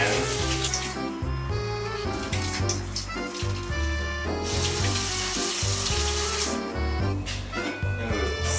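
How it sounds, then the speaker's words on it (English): Water runs from a kitchen sink tap while hands are washed during meatball preparation, a continuous splashing rush with shifting tones as the hands move under the stream, close and fairly loud. "wash my hands again."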